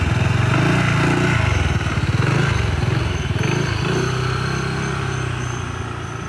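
A motorcycle engine runs close by at a steady idle with a throbbing, pulsing rumble that shifts in pitch and eases slightly louder at the start, heard alone.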